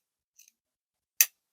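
A single crisp snip of scissors cutting through quilt fabric, close and alone, preceded by a faint soft rustle of handling.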